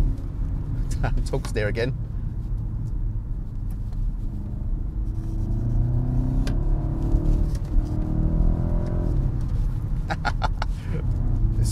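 A 2023 BMW 128ti's turbocharged engine builds a low, rising induction rumble under acceleration inside the cabin, with a voice speaking briefly over it near the start.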